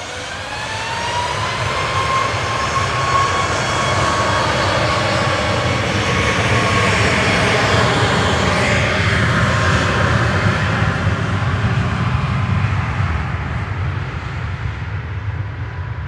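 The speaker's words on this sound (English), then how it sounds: "Ryanair's the next to depart, heading over to Cologne" A Ryanair jet departing Manchester Airport for Cologne gives a loud, sustained engine roar that builds and holds for the whole stretch, rising and falling slowly in tone as it climbs away, with no talk over it.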